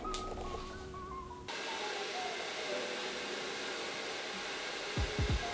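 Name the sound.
hair dryer blow drying hair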